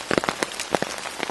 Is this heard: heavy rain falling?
yes